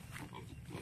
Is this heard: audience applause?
no